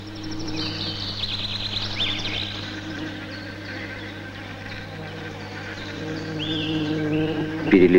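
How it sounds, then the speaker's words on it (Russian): Bees buzzing close by, a low steady hum with higher buzzing passes drifting in and out, and faint bird chirps in the background. "Перелетая с цветка на цветок, пчелы собирают сладкий сок и цветочную пыльцу."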